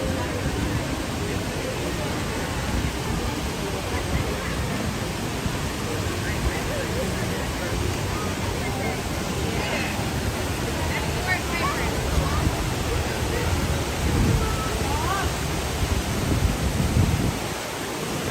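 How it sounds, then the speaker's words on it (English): Steady broadband rush of a waterfall at Disneyland, loud and continuous throughout with faint crowd murmur beneath. "This waterfall here is so nice."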